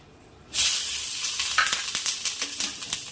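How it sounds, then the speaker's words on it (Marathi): Green chillies roasting in a little oil on a tawa over low gas, a steady loud sizzle that bursts in abruptly and carries on with small crackling pops throughout. "याच ताव्यावर आपण थोडंसं तेल ॲड करून मिरची भाजून घेऊ"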